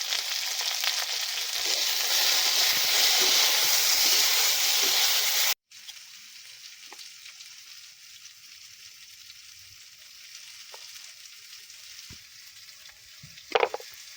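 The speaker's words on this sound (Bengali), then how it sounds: "এদিকে আলু ভাজা হয়ে গেছে" Potatoes seasoned with salt and turmeric fry in a pan with a loud, dense sizzle that cuts off abruptly partway through, leaving a quiet background with a few faint clinks and one sharp clatter near the end.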